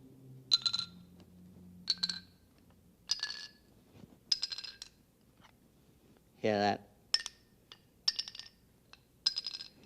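Metal bars in a physics demonstration, struck one after another, ring with bright clinking tones at a steady pace; one bar, not tuned to the sequence of the others, sounds noticeably different partway through. Someone speaks briefly.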